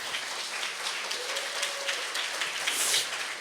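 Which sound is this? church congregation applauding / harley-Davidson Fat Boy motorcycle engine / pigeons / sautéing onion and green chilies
church congregation applauding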